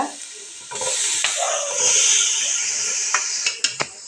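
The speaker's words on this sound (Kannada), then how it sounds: "ಇತ್ತೆ ಟೊಮೆಟೊ ಪಾಡ್ದು ಸರಿ ಫ್ರೈ ಆವಡೊಂದು" Onion and tomato fry in a kadai for an oil-free paneer masala, giving a steady close sizzle and hiss with a few light stirring scrapes and clicks toward the end.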